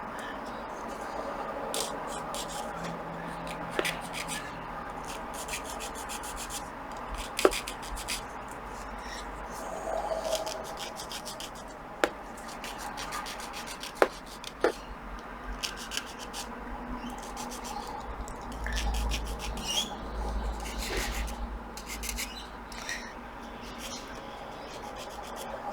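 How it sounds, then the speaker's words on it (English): Quiet, close rubbing and scratching as the axle of a Caldercraft HMS Victory model ship is lightly sanded, a steady soft rasp with occasional sharp ticks and taps, and faint speech in the background. "I just sand the axle just a tiny bit because I don't want to have to force it"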